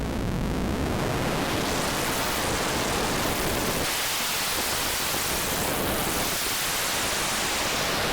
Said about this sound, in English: We're now approaching like more digital white noise modulation.